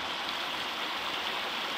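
Hot river water flows in a steady, even hiss and burble at close range near a geyser area, with no voices over it.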